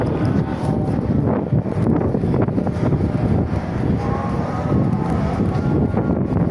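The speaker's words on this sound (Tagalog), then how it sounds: "Hampas lang ng hangin, oh." Steady wind roaring and buffeting across the microphone, a continuous low rumble with gusty swells and no voices.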